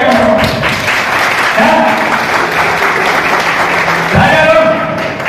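An audience claps loudly and continuously throughout at a Hindi motivational business talk, with a voice speaking over the applause.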